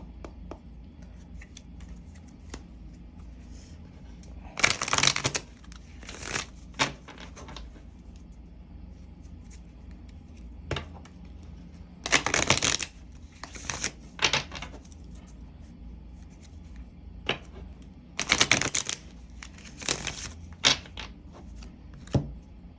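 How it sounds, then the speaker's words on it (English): Tarot cards being shuffled during a pick-a-pile reading, heard as three loud bursts of riffling and flicking separated by softer handling, scrapes and taps over a quiet room tone. "I'm going to shuffle cards for you."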